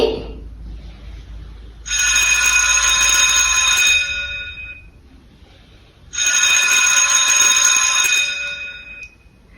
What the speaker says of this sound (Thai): ได้ยินเสียงกริ่ง ดังสองครั้งติดกัน